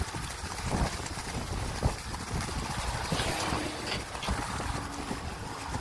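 Strong stormy wind buffets the microphone while cycling in a storm, a continuous loud broadband roar with gusty surges and low rumbling thumps throughout.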